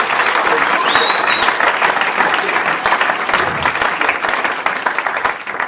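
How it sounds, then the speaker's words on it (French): A church congregation applauding and cheering, dense sustained clapping from a large crowd with a brief whistle early on, loud and continuous throughout. "j'aimerais que nous puissions acclamer pour le roi des rois et le Seigneur des seigneurs"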